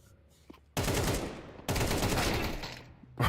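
Two long, dense bursts of automatic gunfire in a competitive Counter-Strike esports match, loud and rapid, with brief quieter gaps and faint clicks between them.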